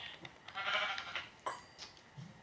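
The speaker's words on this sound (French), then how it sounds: "Mouton." A Minecraft sheep bleats in a wavering, nasal cry, followed by a couple of shorter bleats, fairly faint and alone with no talking.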